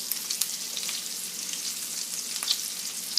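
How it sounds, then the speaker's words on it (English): Okra, onions and tomatoes frying in bacon grease give a steady, close crackling sizzle with scattered sharp pops, continuous and without talk. "I'm about to fry me some okra and tomatoes over here."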